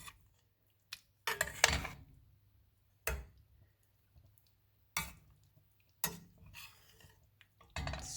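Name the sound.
stirring veggie soup in a pot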